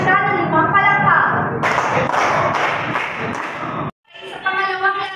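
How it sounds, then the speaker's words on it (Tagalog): A classroom of children claps in unison to reward a classmate, with a burst of dense, rhythmic clapping between stretches of voices talking. "bigyan natin siya ng 5 palakpak"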